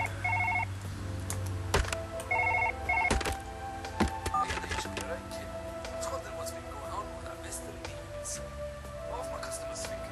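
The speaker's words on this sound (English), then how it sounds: "Oh, phone call." Phone ringing inside the Surgeon Simulator video game, with a short electronic ring tone around two bursts early on, over game music and background sounds while a person talks.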